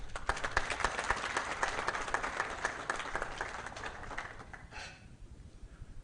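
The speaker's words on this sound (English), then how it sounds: "Please help me to thank our esteemed judges with a round of applause." Audience at a 2021 hackathon awards ceremony in Zimbabwe giving the judges a round of applause, dense clapping for about five seconds that stops abruptly near the end.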